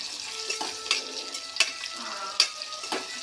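Cumin, garlic cloves, ginger and dried red Byadgi chilies fry in hot oil for a dal tadka, giving a steady close sizzle broken by about four sharp spoon clinks and scrapes against the pan.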